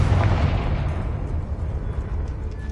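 A Confringo fire spell in the game Hogwarts Legacy bursts in a loud, deep explosion with a rumbling low boom that slowly fades over nearly three seconds.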